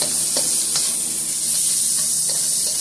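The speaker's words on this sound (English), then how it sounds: "just let that cook down with my onions and garlic" Beef cubes with onions and garlic cooking down in a hot pan, a steady bright sizzle and hiss with a few soft scraping stirs, close and continuous with no voices.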